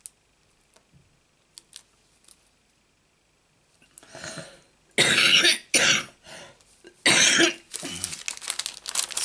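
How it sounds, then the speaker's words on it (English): Several loud, close coughs in quick bursts, preceded by faint clicks from a paper punch and craft work in a quiet room. "Sorry about my cough."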